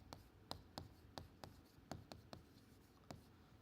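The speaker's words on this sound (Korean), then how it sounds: "여기다가 쓰겠습니다" Marker or chalk writing on a board during a Korean church sermon, a faint series of sharp scratchy strokes in an irregular rhythm, with quiet room noise and no talk.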